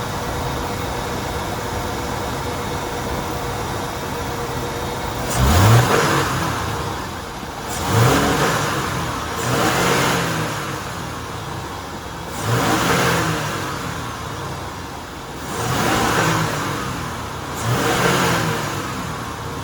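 A 1994 Ford F-250 with the 4.9-liter six and a five-speed is revved with the throttle floored five times in a slow, regular pattern, each swell rising then falling back, loud and close, with no talk.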